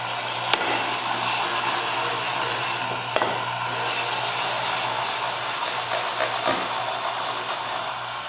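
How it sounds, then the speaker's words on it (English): A pneumatic drum sander works over curved wooden coat rack pieces, giving a continuous loud hissing, grinding roar with a couple of sharp brief knocks and slight shifts in pitch, no voices. "Then I can make the final sanding with a pneumatic drum."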